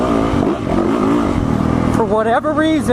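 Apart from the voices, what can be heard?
Yamaha motorcycle engine running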